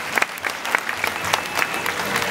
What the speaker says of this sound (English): how about a big round of applause for Iora and his trainers